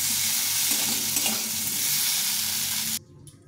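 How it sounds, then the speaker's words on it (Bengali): New potatoes fry in a pan with a loud, dense sizzle and scraping stirs, then the sound cuts off abruptly near the end, leaving only faint quiet noise. "আলুগুলো একটু অল্প করে ভেজে নেব"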